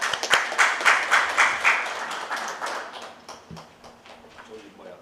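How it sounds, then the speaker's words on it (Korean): A seminar audience in Daejeon applauds a presenter, loud close clapping that tapers off into sparse individual claps by the end. "박수로 맞아주십시오."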